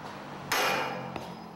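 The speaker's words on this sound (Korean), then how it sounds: "지부 연결핀을 해체하는 망치 소리도 경쾌하다" A hammer strikes steel to knock out the connection pin of a tower crane jib during dismantling, one sharp ringing metallic blow followed by a fading ring and a smaller second tap, heard outdoors.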